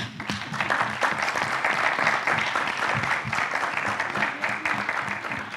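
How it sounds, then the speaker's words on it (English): Audience applause at a JA Africa seminar presentation, a steady, dense clapping from a crowd lasting several seconds at even loudness. "I think you can clap it."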